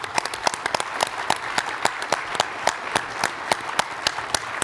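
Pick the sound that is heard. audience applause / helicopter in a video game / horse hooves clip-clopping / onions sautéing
audience applause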